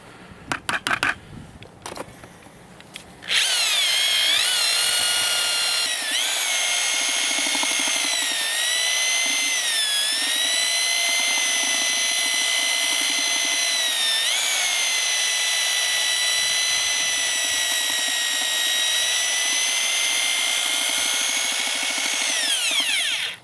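A power drill fitted with a vertical-sided mixing paddle churns lime putty toward a cream-cheese consistency, running loud and steady with a whining motor hum and slight pitch dips as load shifts, after a few brief clunks at the start.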